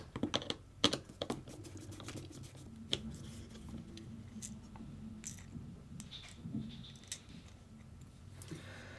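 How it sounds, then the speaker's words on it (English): A screwdriver removing the two screws from an M07 RC car's shock tower, giving close, dense clicking, tapping and scraping in a quick irregular run that is loudest at the start, with no voices. "we're going to need to remove the two screws on both the front and rear shock tower"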